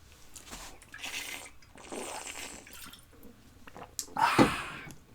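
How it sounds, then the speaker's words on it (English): Someone takes a sip from a water bottle: soft shuffling and handling noises, then a brief, louder slurp and swallow near the end, close to the microphone. "I need another sip of water."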